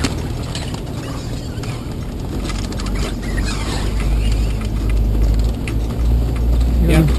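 A 4-wheel-drive vehicle in low gear crawls along a rough track during a Washington forest expedition, its engine and drivetrain a steady loud rumble with rattling, while people talk inside.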